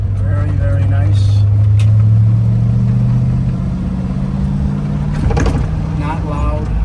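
A 1971 Chevrolet Corvette convertible with a four-speed idling and revving, a low mid-pitched engine hum that swells early then steadies, with a person talking over it.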